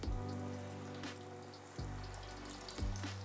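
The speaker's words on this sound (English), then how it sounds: "Our oil is up to 375 degrees. We're gonna start dropping our wedges." Potato wedges frying in oil at 375 degrees, a faint steady bubbling hiss with a low hum and a few soft knocks.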